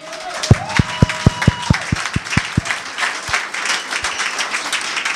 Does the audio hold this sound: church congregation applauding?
yes